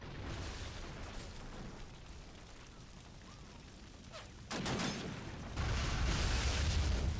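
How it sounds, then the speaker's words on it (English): A flamethrower blowing up in a Warhammer 40k battle game, a sudden loud blast followed by a second heavier roaring burst over continuous battlefield noise. "Oh no, a flamethrower blew up."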